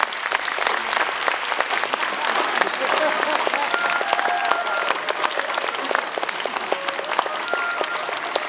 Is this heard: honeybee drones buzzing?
no